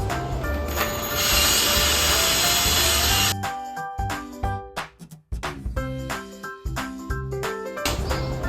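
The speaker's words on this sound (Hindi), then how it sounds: "अब ये होल तो ड्रिल हो गया है।" A power drill bores a hole into a concrete wall while shelves are being put up, a steady loud whine and grind for about three seconds, then stopping and starting in short bursts.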